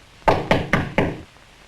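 Four sharp knocks strike a door at an even pace, loud and close, followed by quiet, with no talking.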